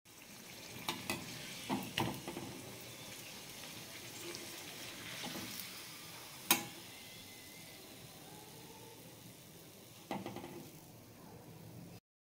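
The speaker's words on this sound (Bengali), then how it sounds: "মিডিয়াম আঁচে এটাকে আমি আস্তে আস্তে ভেজে নেব।" Peas kachori deep-frying in oil on medium heat, a faint continuous bubbling hiss with occasional sharp clicks and clatters of a utensil, quiet and steady throughout with no voices.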